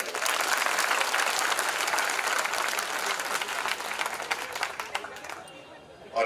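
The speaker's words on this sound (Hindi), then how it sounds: "2000 तालियां बजा दी" Dense audience applause at a Sardar Patel birth anniversary gathering, loud sustained clapping that gradually thins and fades toward the end, with a voice faintly present beneath it.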